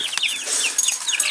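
Young guinea fowl kept alongside chickens give high, chirping calls in a rapid series, close and fairly loud with no voices over them.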